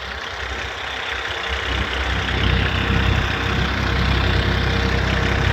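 A tractor engine, on a tractor driven up on two tyres, runs loud and steady, a low rumbling drone that builds slightly and holds without talk.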